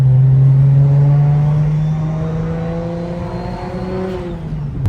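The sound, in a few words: BMW 335i single turbo car exhaust while driving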